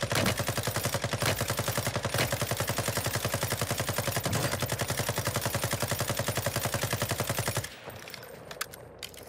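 Rapid automatic gunfire from the video game Warzone rattles on in a dense, continuous stream of shots for most of the stretch, then cuts off abruptly and leaves quieter game noise at the end.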